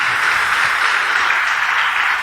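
A church congregation claps steadily, a dense continuous wash of applause filling the space, loud and sustained without a break.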